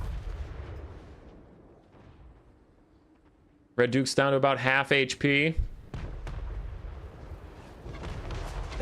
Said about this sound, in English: The cannons are still lighting up Cryptors